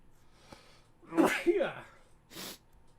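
A single close sneeze with a quick inhale beforehand, followed by a short breathy sound afterward, in an otherwise quiet setting.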